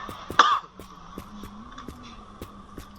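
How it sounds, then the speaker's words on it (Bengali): A single short cough or throat clear from a man who is unwell and playing a driving game, heard close and alone against a faint steady engine hum. "কাশতেছি, কিছু মনে করো না তোমরা সবাই।"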